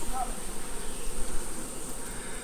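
Honeybees buzz around an open beehive in November, a steady close drone of many insects throughout, with no talking.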